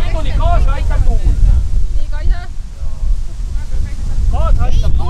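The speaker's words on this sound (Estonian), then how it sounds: "Kaasa aitab tuul." Strong wind buffets the microphone outdoors on an August day, a loud, gusty low roar running throughout while people talk over it.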